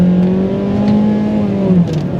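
A Mazda 3 with the base 2-litre engine hums steadily and rises slightly in pitch as it revs, a smooth, continuous close-up drone with no talking.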